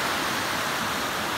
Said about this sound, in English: This is a raging creek